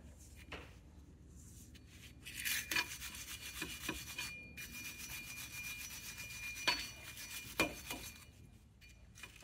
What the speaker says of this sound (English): And I want to clean this hub off a little bit.